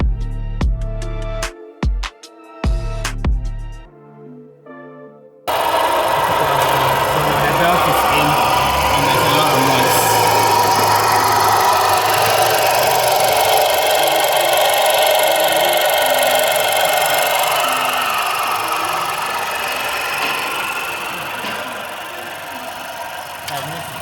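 Grinding noise from a running engine compartment during a diagnostic check, heard after some opening music as a loud, continuous rough mechanical whir and rattle that gradually fades toward the end.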